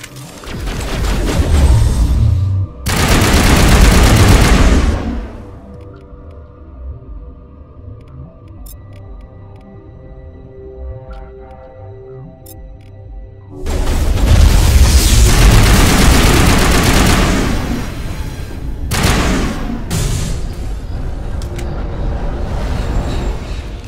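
Mass Effect Legendary Edition video game firefight: loud, dense bursts of weapon fire and booms break off into a quieter stretch of tonal background score, then the heavy shooting resumes.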